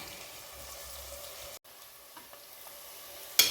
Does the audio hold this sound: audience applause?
no